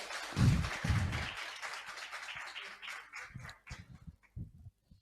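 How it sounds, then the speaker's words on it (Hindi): Audience applause welcoming a speaker at a motivational gathering, a loud burst of clapping at the start that thins into scattered claps and fades out over a few seconds. "एक बार जोरदार तालियों से स्वागत करेंगे"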